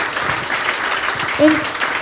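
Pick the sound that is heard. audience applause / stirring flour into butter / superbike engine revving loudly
audience applause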